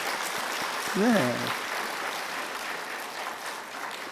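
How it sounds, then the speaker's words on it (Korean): A church congregation at a Sunday afternoon service clapping together, a dense steady wash of applause throughout, with a brief spoken reply from one voice partway through. "우리 박수 한번 쳐줍시다."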